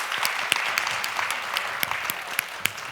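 An audience at a museum speaker series panel discussion applauds, a steady patter of many hands clapping indoors with a few sharper individual claps.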